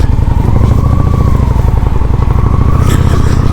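A Honda Shadow 750 ACE motorcycle engine rumbles steadily and loudly as it rides through a neighborhood, a continuous low drone with a slight rise and fall in pitch and no talking.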